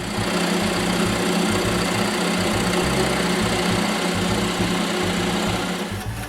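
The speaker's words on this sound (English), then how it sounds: "I drill the center hole." A power drill whines continuously at a steady high pitch, boring a center hole in a wooden chair rung, a constant buzzing grind, close and loud throughout.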